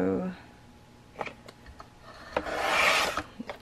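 Paper pocket page insert being trimmed out for a floral scrapbook project, heard as scattered soft rasping and scraping cuts with a louder, longer rubbing pass near the end, close and quiet.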